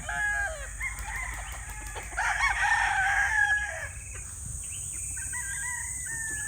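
Young rooster stags, about five months old, crowing on a farm in the early morning, several overlapping crows close by alongside clucking fowl.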